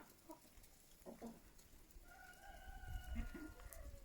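Chickens in a farmyard poultry pen, clucking softly at close range amid faint rustling, with a longer drawn-out call partway through; a crowing tone is also present.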